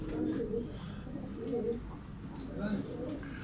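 Pigeons coo softly in a pigeon shop in Kocaeli, low rolling calls repeating in overlapping phrases over a busy indoor background with faint voices.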